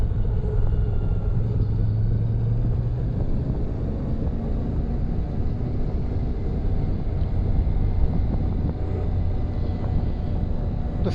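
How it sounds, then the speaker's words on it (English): A CF Moto MT 450 motorcycle rolling and decelerating on engine braking through a hairpin, a steady low engine rumble mixed with wind noise, continuous and close, with no speech. "you can roll and decelerate and you don't really need to use your brakes at all, which is what I'm doing now"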